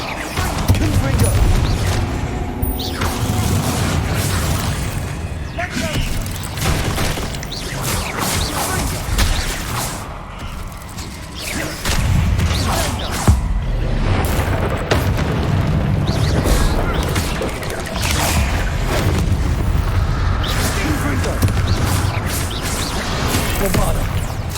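Spell explosions from Confringo and Bombarda casting in the Hogwarts Legacy video game, booming blasts and crashes going off repeatedly and loudly throughout a dense combat mix with a voice calling out spells.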